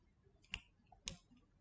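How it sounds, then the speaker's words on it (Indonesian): A crimping tool squeezes an RJ45 connector onto a UTP network cable, giving two sharp, close clicks about half a second apart in an otherwise quiet room. "ditekan kuat sampai berbunyi klik ya"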